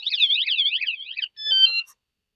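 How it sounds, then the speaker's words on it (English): An e-bike security alarm sounds loud and close: a rapid warbling electronic siren for about a second, a short break, then a steadier two-tone beeping burst that cuts off. "if somebody messes with the bike, you know, just a simple touch, it gives them an alarm to say, hey, leave it alone."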